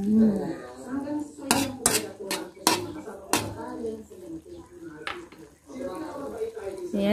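A metal utensil clanks and scrapes against a pot of boiling adobo in a quick burst of stirring while a person talks throughout.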